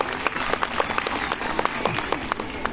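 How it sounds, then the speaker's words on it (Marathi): Applause from an audience at a Women's Day speech, many hands clapping in a steady dense patter with sharper individual claps standing out, moderately loud and continuous throughout. "एकदा जोरदार स्वतःसाठी टाळ्या झाल्या पाहिजे."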